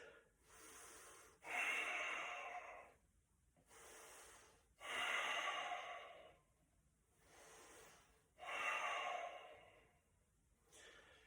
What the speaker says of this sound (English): Let's go for 3 more breaths